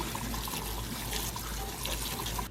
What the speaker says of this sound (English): I will run hot water down through that for a little bit and let that get good and flushed down